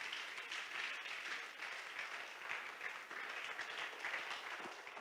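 Church congregation applauding for the Lord, a steady wash of clapping from many hands lasting throughout, moderately distant with no break.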